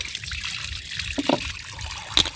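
Water trickles quietly from a tap while an item is washed, with a soft, uneven flow and a few brief splashes and clinks.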